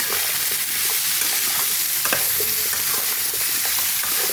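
Squash curry with green chilies frying in a pan, a steady close sizzle with occasional stirring scrapes and clicks throughout, no voices.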